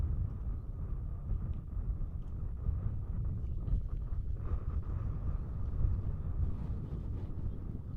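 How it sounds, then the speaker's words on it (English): Steady wind gusts across a baseball field, a constant low rumble buffeting the microphone for the whole stretch, with faint background activity and no clear talk. "You guys can hear the wind a bit gusting here."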